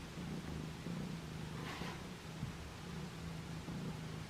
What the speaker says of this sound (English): she's purring so loud.